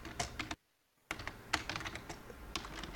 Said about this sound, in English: You can't see this typing yet.